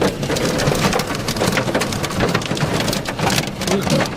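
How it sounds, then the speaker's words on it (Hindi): A hailstorm driven by strong wind pelts a car in Chhattisgarh, India, with dense, continuous rattling and drumming. The noise is loud and close, with no talking over it. "बहुत तेज ओले गिर रहे हैं, बहुत तेज आवाज है यहाँ पर।"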